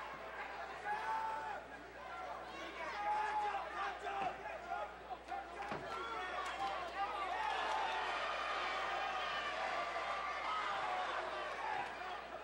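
Boxing arena crowd at a Kevin Higson versus Junmar Emon fight, a dense steady roar of voices with rhythmic chanting of fighters' names, while a commentator talks over it.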